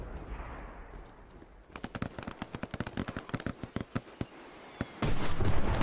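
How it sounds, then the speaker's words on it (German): Rapid bursts of gunfire in the WWII shooter Hell Let Loose, starting after a quieter stretch of rumble: dense, sharp shots in irregular volleys, some close and loud, ending in a sustained louder burst. "Wo kommt die Schüsse her?"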